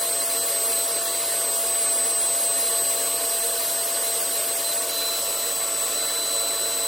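A homemade twin-cyclone pail-can dust collector runs with a steady, loud, unbroken whine and rushing airflow, holding an even pitch throughout with no talk.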